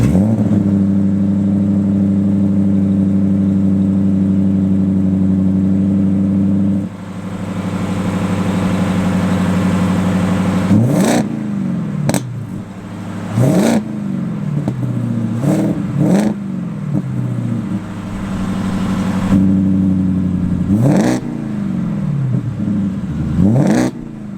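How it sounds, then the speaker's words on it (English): A supercharged 2025 Ford F-150 Raptor R idles with a deep, steady rumble, then blips the throttle repeatedly, each rev rising sharply and falling back, loud and close with no talk. "So all in all, great engine, sounds amazing."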